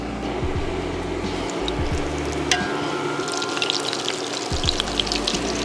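Chicken drumsticks frying in hot oil for Southern fried chicken make a dense, steady crackling sizzle, close and continuous, with occasional small pops and a brief clink.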